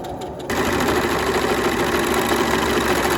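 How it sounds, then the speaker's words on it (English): A sewing machine runs steadily as it stitches a seam on a pair of mini shorts during a waistband alteration, a loud continuous whirring hum that starts abruptly after a brief quiet moment. "Now we will take that to the machine. We will seam along the red lines here"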